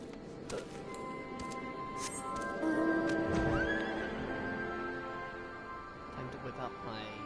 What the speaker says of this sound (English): Time to whip out my earth horse.